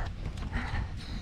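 A horse in the rain in Polonnaruwa, Sri Lanka, with soft hooves clip-clopping faintly against steady rain noise.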